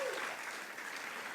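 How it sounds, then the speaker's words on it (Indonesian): A church congregation at a GBI worship service in Batam applauding, a sustained wash of many hands clapping, fairly soft and slightly distant, with a brief voice at the very start. "Beri tepuk tangan lagi buat Tuhan kita."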